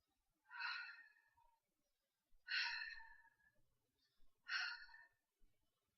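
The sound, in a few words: imitated breathing on fingers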